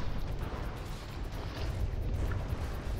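Naval guns from a warship video game fire a constant stream of shells, heard as a dense, rumbling barrage of low booms with no clear gaps or speech over it.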